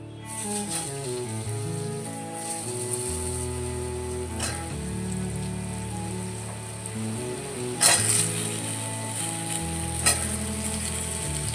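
Ridge gourd frying in hot oil in a pan over low gas, a steady close sizzle with occasional stirring scrapes and clinks, under background music and no talk.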